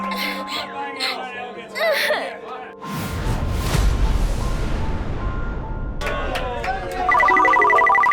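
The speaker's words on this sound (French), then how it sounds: "une alarme forte a soudainement retenti, apportant une alerte d'urgence sur les téléphones de tout le monde" Voices and a sudden burst of noise at a party give way to a loud, repeating emergency alert tone from phones, shrill and insistent, ringing out near at hand.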